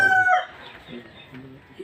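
A brief chicken squawk sounds at the start, followed by quieter clucking and faint background noises.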